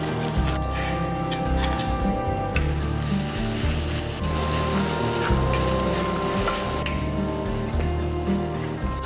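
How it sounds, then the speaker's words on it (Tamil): Horse gram, pepper, cumin and dried chilli paste sauté in a pan with a steady, close sizzle that runs the whole time over a low, droning background tone. "அதை போட்டு ஜஸ்ட் லைட்டாக சாட்டே பண்ணுங்கள்"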